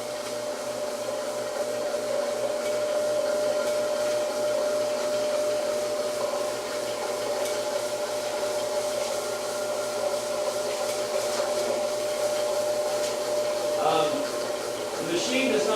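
A floor stripping machine runs steadily throughout, a constant close motor drone with a high whine and a low rumbling hum, scrubbing a floor with little change in level.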